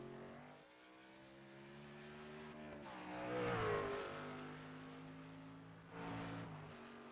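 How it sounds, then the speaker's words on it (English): Race trucks lapping Charlotte Motor Speedway roval during qualifying, heard from a distance: engines whine and shift as one passes with a rising then falling roar, then another approaches, faint under a quiet background. "We see a handful of trucks still on the Speedway."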